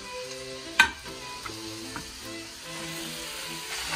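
Onion and garlic fry in avocado oil in a pan with a steady sizzle, broken by a few clicks and scrapes of stirring, close by and with no talking.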